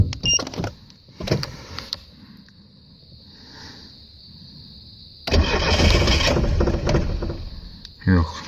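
A carbureted engine is cranked by its starter, with a short whirring crank early on and then a loud, sustained rumble of the engine catching and running, while a voice speaks briefly near the start.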